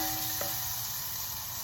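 Green chilies and chopped shallot onions fry in a pan for a South Indian breakfast dish, giving a steady, even sizzle with a single soft stir or tap near the start.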